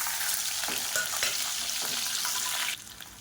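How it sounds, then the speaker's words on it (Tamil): Chopped small onions (shallots), curry leaves and dried chillies fry in hot oil, making a dense bright sizzle with stirring scrapes that abruptly drops quieter near the end. "இப்போ பாருங்கள், வெங்காயம் பொன்னிறமாக வதங்கிடுச்சு."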